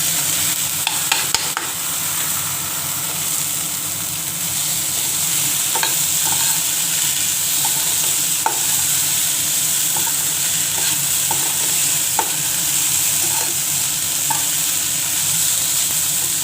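Flattened rice fries in a pan with potato and capsicum, a steady loud sizzle running throughout while a utensil stirs and scrapes with occasional light clinks; no one speaks.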